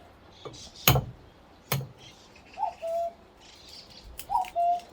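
A cuckoo calls twice in the distance, its two-note cu-coo clear against quiet surroundings, with a couple of sharp clinks nearby while egg yolks are separated for an egg-yolk oil garden spray.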